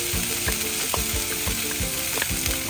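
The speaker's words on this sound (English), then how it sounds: "And this is white corn, yellow corn, carrot, and asparagus. I'm just gonna saute it." White corn, yellow corn, carrot and asparagus sauté in a pan with a constant close sizzle, broken by repeated scraping stirs of a utensil at a steady rhythm.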